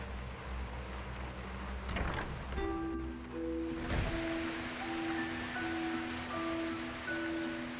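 Steady rain falling in the heavily modded Enderal video game, a soft constant patter under faint tonal music and a few clunks, fairly quiet throughout.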